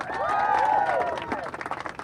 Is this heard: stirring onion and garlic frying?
no